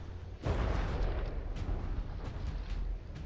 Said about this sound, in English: The Danubia is just getting pushed along by the recoil of its guns and the explosions landing on it.